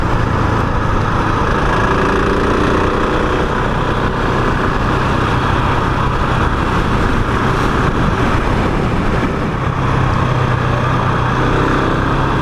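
A 2021 KTM 690 Enduro single-cylinder motorcycle engine runs steadily and loudly up close throughout, a continuous buzzing drone with wind rush and no voices.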